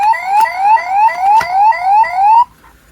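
A toy police motorcycle's electronic siren effect from a small 1/12 scale figure set, with rapid repeating rising wails about every quarter second, loud and close for over two seconds before cutting off, with a couple of clicks.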